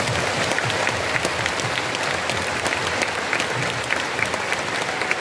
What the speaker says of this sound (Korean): 박수 한번 해봐요.